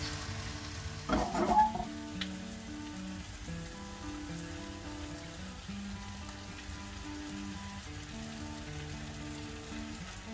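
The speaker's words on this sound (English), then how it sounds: "turn the heat down low, and we're going to sort of simmer it for about half an hour or so, just on a low heat" Tomato passata sauce packed with vegetables simmering in a pan on low heat, a steady soft sizzle and bubbling throughout, with a brief louder clatter of stirring near the start.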